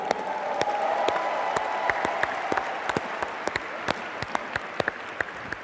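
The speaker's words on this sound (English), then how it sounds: "How about a big round of applause for our corporate team?" Audience at a Nu Skin corporate live event applauds a corporate team, a steady roar of many hands clapping in a large hall with sharp individual claps standing out throughout.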